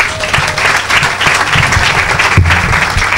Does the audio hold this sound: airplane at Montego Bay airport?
no